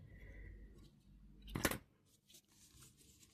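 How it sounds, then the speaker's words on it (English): A single quiet snip of scissors cuts the end of a merino wool thread during a knitwear ladder repair, with faint handling noises before and after. "you can safely cut the end of the thread"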